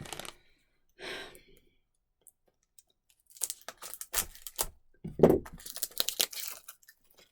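Crinkly plastic packaging is opened under a table, rustling and crackling in irregular bursts, close by, with a short sigh-like breath and quiet pauses between the sounds.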